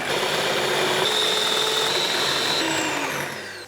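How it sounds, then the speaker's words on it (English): An electric whisk beating egg whites until stiff, a steady close motor whir and buzz that holds for several seconds and then winds down, with no talking. "Electric whisk, and I will whisk away."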